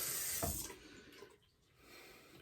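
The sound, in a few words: rinsing a shaving soap puck with tap water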